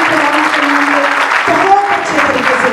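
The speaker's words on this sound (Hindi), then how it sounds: "जोरदार तालियां" A church congregation at a Sunday service claps loudly, continuous applause running throughout with tonal voices or music mixed in beneath it.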